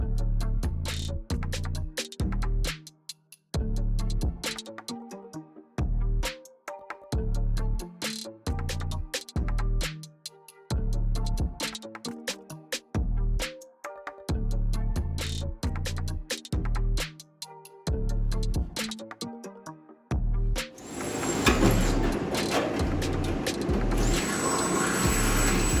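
Power tool cutting the metal car body of a rat rod build in repeated loud bursts with short pauses between them, ending in a steadier harsh grinding screech.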